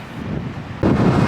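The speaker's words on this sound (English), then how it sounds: "A very windy Santorini." Strong wind buffeting a microphone outdoors on Santorini, Greece, at sunset, a low rushing roar that suddenly grows louder partway through, with no voices.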